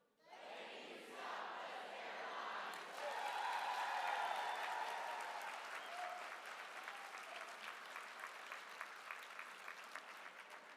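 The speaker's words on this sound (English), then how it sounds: "Don't forget to applaud right after." Audience at a YMCA Key Leaders luncheon breaks into applause, a dense wash of clapping swelling to a peak and then thinning into scattered individual claps, heard from a distance in a large room.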